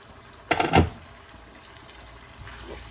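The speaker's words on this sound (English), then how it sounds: "I'll add in some hot water just to let it continue to cook" Hot water, about a cup, is poured into a pot of Fiji-style chicken giblet curry in a short, close splashing gush lasting under half a second, then only a faint simmer.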